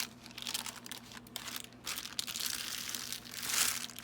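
A plastic cereal bag slides snugly into a paper mailer, producing close, soft crinkling and rustling that stays steady and quiet, with a louder swell near the end and no voices.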